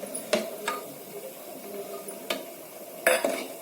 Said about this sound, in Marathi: आता हे छान परतून घ्यायचं, त्यात थोडं घालायचं।